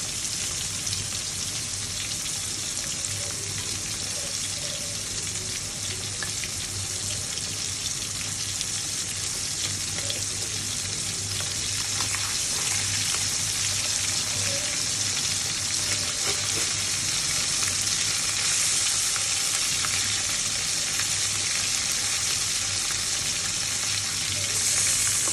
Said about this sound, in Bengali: কড়া কড়া করে ইলিশ মাছটা ভাজবো